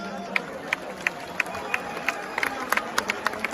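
An audience at a Sidhu Moosewala live show in New Zealand claps in unison for the organising team, a steady, even beat of sharp claps about three per second, with crowd voices beneath.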